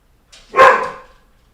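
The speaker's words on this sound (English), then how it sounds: "Dog escaped again." A single dog bark rings out, loud and close, with a quick rise and a fading tail, standing alone against otherwise quiet surroundings.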